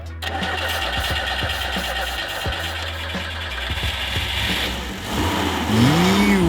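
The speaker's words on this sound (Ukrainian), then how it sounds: "Ми завели ниву, а потім ще й поїхали." A Lada Niva engine cranks and catches, then settles into a rough idle with intermittent revs, loud and close, with a rising whine near the end.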